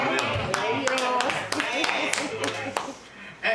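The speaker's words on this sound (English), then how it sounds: "Could you clap for him?" A church congregation claps during a Sunday service, scattered clapping beats running beneath a preacher's speaking voice.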